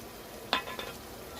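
Lemon juice being stirred into cooked rice with a spoon in a home kitchen, a couple of brief scraping, mixing strokes close by, fairly quiet, with no talking.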